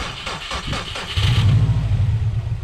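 A Subaru STI engine, an abandoned car being revived, revs hard as the clutch is dropped: a brief faint rev, then a loud sustained low growl that holds near and steady to the end.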